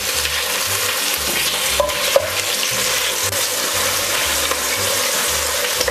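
Hot oil sizzling and spitting in a pan while Italian tomato sauce is cooked, a close, steady hiss broken by a few sharp pops, with no talking.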